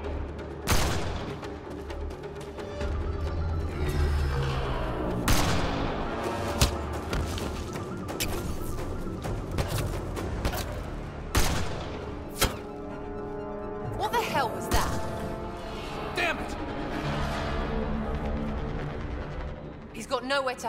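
Repeated gunfire crackles through a firefight in Mass Effect Andromeda on Kadara, sharp shots and thuds scattered across the scene amid combat noise, with voices speaking over the shooting.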